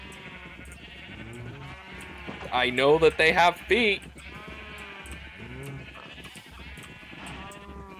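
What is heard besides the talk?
sheep bleating in the video game Minecraft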